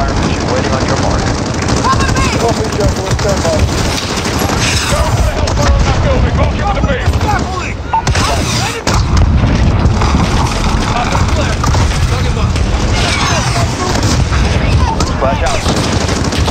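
An airstrike fire mission in Call of Duty: Modern Warfare fills the air with constant loud gunfire, rolling explosions and an aircraft droning overhead. The chaotic battle din barely lets up, and shouted voices break through in places.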